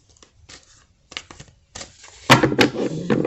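A deck of playing cards shuffled by hand between short cuts, close up, heard as a dense riffling burst after a few light taps and handling sounds.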